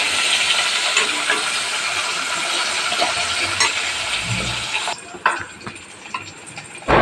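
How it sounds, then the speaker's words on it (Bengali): Onion and tomato frying in a wok, a loud, dense hiss of sizzling oil that drops off sharply near the end, leaving a quieter crackle with a few scattered clicks and knocks. "এবারে পেঁয়াজ টমেটোটা দিয়ে ভালো করে ভেজে নেব।"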